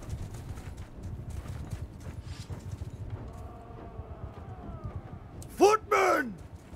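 Horses in a battle in the video game Mount and Blade II: Bannerlord, with busy clip-clop hooves under talk, then a loud horse neigh near the end.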